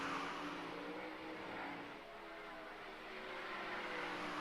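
Race car engine droning around a dirt speedway oval during a Big Blocks and 360 sprint car event, a steady distant roar that swells and fades slightly as the car circles, with no talk.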